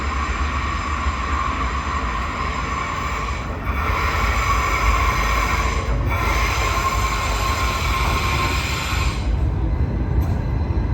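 A loud, steady train rumble at Zurich with sustained high-pitched wheel squeal running throughout, briefly dipping a few times.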